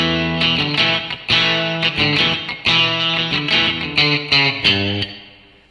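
Distorted electric guitar figure, a short repeating riff of crunchy picked notes and chord stabs in an uneven rhythm, loud and close, ending on a ringing decay.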